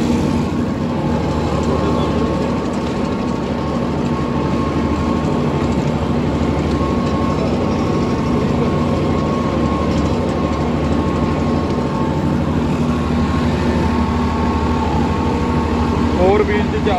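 A Swaraj 969 FE CRDi 4x4 tractor's diesel engine runs while being driven. It makes a loud, steady, unbroken drone that holds an even pitch from start to finish.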